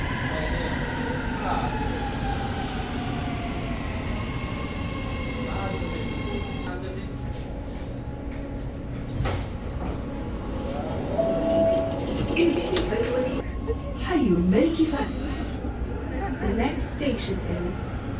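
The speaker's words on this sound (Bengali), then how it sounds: "আমাদের সে ট্রেন চলে আসছে ইনশাল্লাহ এখন ট্রেনে উঠবো" A Riyadh metro train pulls into a station, its rising electric whine and rolling rumble filling the platform, with descending tones, a screech of braking and clattering near the end, while people talk nearby.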